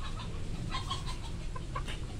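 A chicken clucks in short, soft bursts at a moderate distance over a low background rumble.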